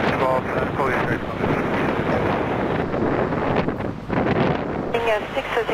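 Strong, gusty wind buffets the microphone at Schiphol airport during windy conditions with heavy cargo departures, a steady roaring rush that fills the whole clip with brief lulls and a radio voice faintly underneath.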